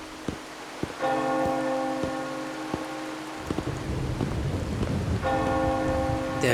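Steady rain falls in the Wuthering Waves video game world, a constant hiss under tonal chiming music and occasional sharp ticks.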